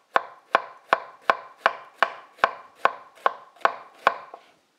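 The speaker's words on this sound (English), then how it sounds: "Our cabbage, we cut off the stem. And as well, just slice it up thinly." Cabbage sliced thinly with a knife on a board, eleven crisp, evenly spaced chops close up and alone, the last one softer.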